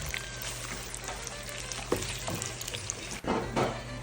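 Onions sautéing in a pan, a continuous close sizzle with occasional utensil knocks and a brief clatter near the end, no voices.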